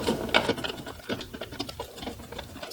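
Small screws are backed out of a car headlight housing with a hand tool, giving close, soft scratchy clicks and gritty turning noises in a quiet space with no talking.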